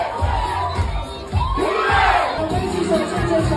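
A crowd at a primary-school relay race screams and cheers at close range, many shrill young voices rising and falling in loud, overlapping shouts.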